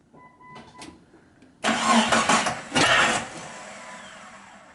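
A Jeep Cherokee XJ's starter whirs briefly and faintly, then the engine catches with a loud roar, surges twice and settles into a steadier idle.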